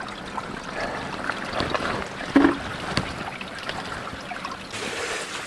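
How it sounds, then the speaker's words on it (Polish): Water pours and drips steadily inside an old mine adit, a continuous wet splashing wash with a brief louder splash midway, close and enclosed, with no talking. "wszędzie leje się woda"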